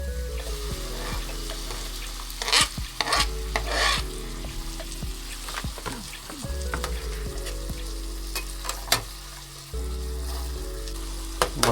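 Egg bhurji with tomato and five eggs cooks in a pan, with a steady sizzle of frying under repeated scraping and stirring strokes. It is close and continuous, with no talk.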